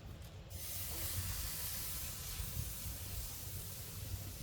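Pork chops sizzle on a smoker grill with flames kicking up beneath, a steady close hiss that holds evenly throughout with no talk.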